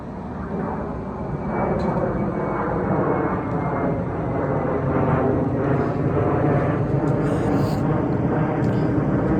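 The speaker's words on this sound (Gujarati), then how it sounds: "જો વિમાન" A steady, loud engine drone of an airplane passing overhead, filling the whole stretch with a broad roar and faint higher whines near the end.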